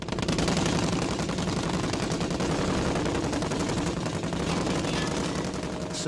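Dense, sustained gunfire rattles continuously from start to finish in a naval wartime battle as a surfaced German U-boat, U-99, comes under fire, loud and unbroken with no talk.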